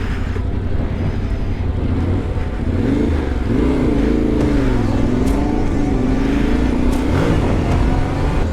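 A motorcycle engine revs up and down in close, loud, rising and falling pulls with a steady rumbling idle between, heard alone without talk.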